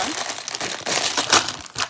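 Plastic crinkles and rustles continuously up close, with sharp crackling bursts as the packaging is pulled open.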